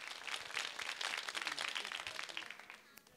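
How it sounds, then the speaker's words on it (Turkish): Studio audience applause on a live Turkish folk-music TV show, a dense steady clapping that fades toward the end. "Evet alkışlar gelsin"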